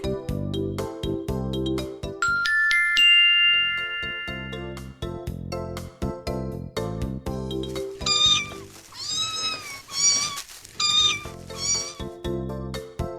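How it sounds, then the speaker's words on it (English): Kittens meow several times in high, wavering cries, clustered in the latter half and set against a light musical background. "who lived next door to Henry and Mudge had a litter of kittens"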